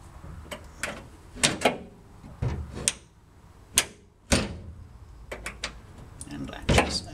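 A restored door swung shut and latched, heard close as several sharp knocks and clicks spaced by short pauses, with a few louder bangs as it meets the frame.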